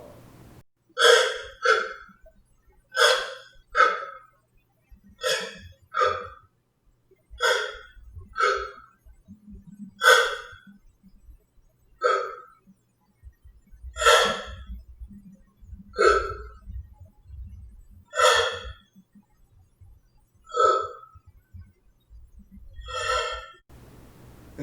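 A person imitates the shallow gasping breathing of a dying mother, with a long series of sharp, short catching inhalations, close and loud, repeating roughly once a second with quiet gaps between.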